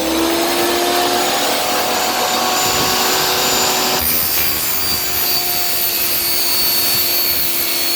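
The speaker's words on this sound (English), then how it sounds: "We're going to use our table saw." A table saw ripping lengthwise down a PVC pipe to make a floor wire cover for a Carolina Skiff, a loud, steady, close whine with the blade's pitch shifting midway through the cut.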